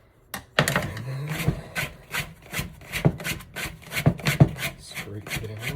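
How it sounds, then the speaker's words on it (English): A small plastic bench scraper drags around the inside of a bowl of sourdough dough, making a series of short, close, rasping scrapes in an uneven rhythm, with a voice talking faintly alongside. "this is my bench scraper, little plastic one to go along the contours of the bowl"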